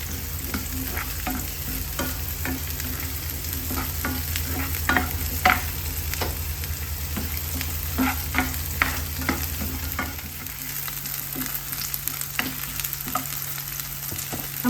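Chopped onions sauté in a pan until wilted for a coconut-free fish curry, with a constant close sizzle and frequent scraping spoon strokes, no speech.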